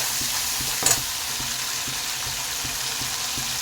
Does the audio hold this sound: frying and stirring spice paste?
yes